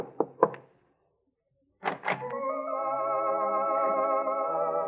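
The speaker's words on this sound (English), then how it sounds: "you knock lightly on the door" A light knock on an apartment door in a radio drama, two or three soft raps followed by another short pair of taps, then a sustained musical tone that carries on to the end.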